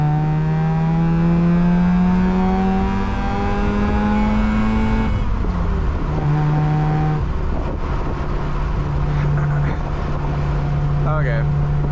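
Mazda FC RX-7 with a rotary engine, driving at wide open throttle on winding roads; a steady, loud engine drone shifts in pitch through gear changes, heard from inside the car.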